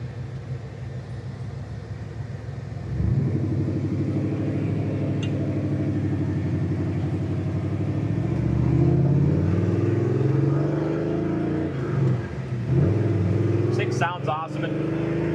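A freshly built 409 V8 in a 1964 Chevrolet Impala idling with a deep rumble, then revving up and settling in long, loud swells close by, with a voice talking over the engine.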